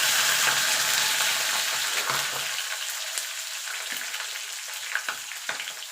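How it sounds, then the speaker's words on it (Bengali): Whole spice tempering (phoron) frying in hot oil for a vegetarian winter-vegetable khichdi. A steady, close sizzle is loud at first and eases slightly, with a few faint stirring clicks and no talk. "ফোড়নটা একটুখানি ভাজা ভাজা করে নেব যাতে ফোড়ন থেকে সুন্দর একটা গন্ধ বেরিয়ে আসে"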